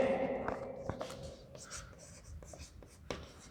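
Marker or chalk scratching on a board during a nutrition lecture, with quick close strokes and taps in an irregular rhythm, faint, with a quiet voice in the background.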